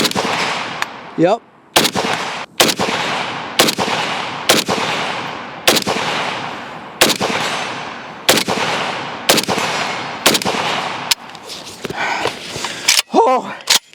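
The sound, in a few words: cheap AK rifle firing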